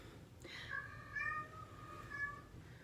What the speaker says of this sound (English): If you hear noise in the background, that is my cat.